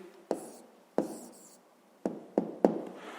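A pen taps and scratches on paper as a math answer for a fifth-grade decimal multiplication exercise is written down, giving five sharp, close strokes spaced unevenly over a few quiet seconds.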